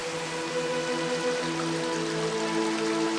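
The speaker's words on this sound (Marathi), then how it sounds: "कोकणातला पाऊस इथल्या पावसाच्या सरी नुसत्याच कोसळत नाहीत तर बेभान होऊन बरसतात" Steady monsoon rain pours down on a Konkan village, a dense, continuous hiss of drops on surfaces with a faint watery rush beneath it, and no voices.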